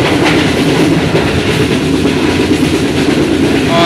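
Passenger train running at high speed on the rails in Sindh, Pakistan: a loud, continuous roar with rhythmic clickety-clack of wheels, heard from on board, without talk.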